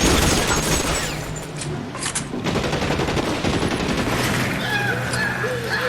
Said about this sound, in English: Light machine gun, yeah.